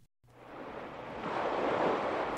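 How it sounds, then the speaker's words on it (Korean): Ocean waves wash in with a broad, rising roar of surf that builds and swells louder toward the end, with no voices over it. "바다가 파도 소리를 철썩철썩 내면서 해님과 달님을 찾아왔어요."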